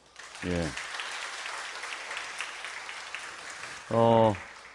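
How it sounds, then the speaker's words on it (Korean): A church congregation claps briefly, then a steady murmur of voices, then another short burst of applause near the end. "박수 한번 해주세요"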